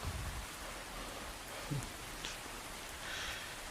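Steady rain falling in the video game Zombie Forest 3, a dense, even hiss of drops continuing throughout with a few faint clicks, no speech.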